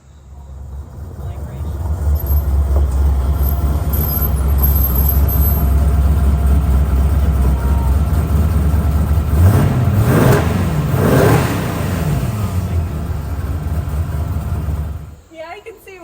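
Car engine with a newly fitted aftermarket exhaust revs loudly and close by, a sustained roar building into a sharp rising rev near the end before cutting off abruptly.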